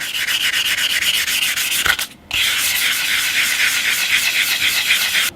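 Rhythmic rubbing strokes of 600-grit paper wet sanding a guitar's lacquer finish to flatten orange peel, steady and close with one brief pause partway through, no talking.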